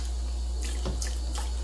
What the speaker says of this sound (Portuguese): Enquanto isso, eu tô passando uma água aqui morna.